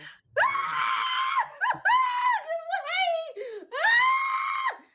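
A player in a tabletop role-playing game lets out long, loud, shrill screams in three or four sustained bursts with short breaks between them, close up, with no other sound behind them.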